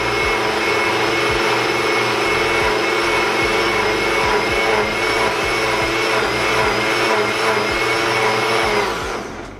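A blender whirring through butternut squash and ginger soup, a loud steady motor roar held close for about nine seconds before winding down at the end, with no talking.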